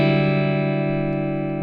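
A single sustained distorted electric guitar chord rings through an amp with its booster engaged, rich in harmonics and decaying slowly, heard alone and close.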